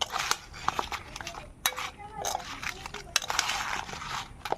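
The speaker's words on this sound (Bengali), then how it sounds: "এইভাবে একটা খুন্তি দিয়ে চিনির রসটা প্রত্যেক খাজার গায়ে এইভাবে লাগিয়ে নেব" A metal spatula scrapes and clinks against a kadai while coating khaja with sugar syrup for Rath Yatra, giving a steady run of close utensil clatter with a faint voice in the background.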